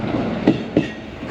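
A JR East Tokaido Line train sits at a quiet seaside station platform, giving a low rumble with two or three sharp clanks or wheel knocks in quick succession.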